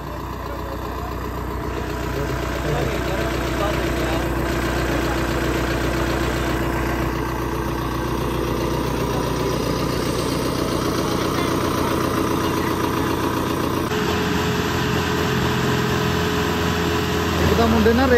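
A tractor stuck in soft ground hauling temple soil idles with a steady, loud engine drone throughout, the pitch shifting slightly as the throttle changes; someone talks over it.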